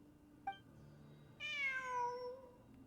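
A cat in the video game Genshin Impact gives a single clear, drawn-out meow, fairly close but soft, preceded by a faint short chirp over quiet background ambience.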